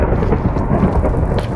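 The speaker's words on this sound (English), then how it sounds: "Oh, they added thunder to the nether?" Thunder in the Nether of the Minecraft video game, a brief, loud, rumbling roll mixed with rain-like hiss.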